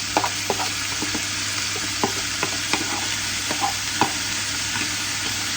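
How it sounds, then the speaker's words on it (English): Rice fries in a hot pan with a steady, dense sizzle, broken by occasional soft clicks and taps from a utensil, close and continuous with no voices. "We'll get that sizzling. Now I'm going to add my rice."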